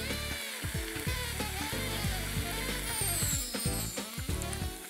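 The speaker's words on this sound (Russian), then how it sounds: "И минут 5 на медленном огне лук должен немного притушиться." Onion cooks slowly over low heat in a pan. A soft, steady sizzle runs throughout, broken by irregular small clicks and scrapes of stirring, with no talking.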